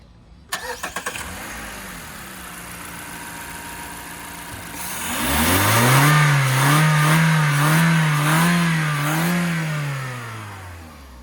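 A 2012 Mazda 3 fitted with a short ram air intake starts and idles, then revs hard, its engine note climbing and holding at high RPM before easing back, loud and close with no talk.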